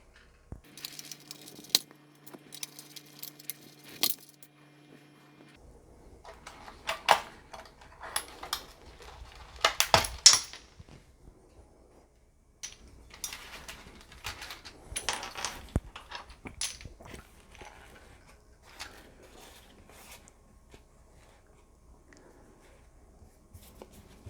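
Keys are pried one by one off a Commodore 64 keyboard, giving scattered plastic clicks, snaps and light rattles at close range, irregular and fairly quiet, with a faint hum early on.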